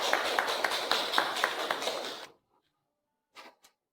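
A crowd gives lively applause to welcome a speaker to the stage. Dense, steady clapping lasts about two seconds, then stops abruptly into near silence, with a couple of faint taps afterward.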